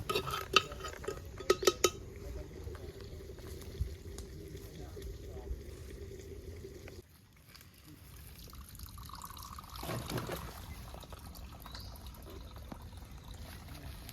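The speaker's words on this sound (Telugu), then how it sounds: "ఇగో లెఫ్ట్ హ్యాండ్తో కలుపుతాడు" Chicken curry is stirred by hand in a clay pot on a fire, with a few sharp clinks early on, then soft wet scraping and sloshing. Faint voices murmur in the background.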